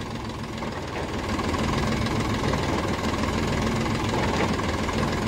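A 40 hp three-cylinder tractor pulling a 7-foot rotavator, its engine a steady rumbling drone with a constant low-pitched vibration, running continuously and growing slightly louder after the first second.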